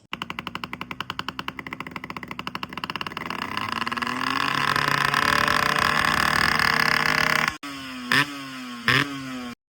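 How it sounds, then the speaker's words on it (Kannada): A Yamaha RX two-stroke motorcycle kicks into life with a rapid popping burble, settles into a loud, rising idle that swells and holds, then gets two sharp blips of the throttle before cutting back; no one speaks. "ಗಾಡಿ ಸ್ಟಾರ್ಟ್ ಮಾಡಿಬಿಟ್ಟು ಇದ್ರ ಸೌಂಡ್ ಕೇಳಿಸ್ತೀನಿ."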